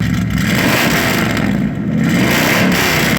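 A car engine with a straight-pipe exhaust revs hard and continuously, a loud, raw, rumbling roar with some rattling clatter, close by and with no talking.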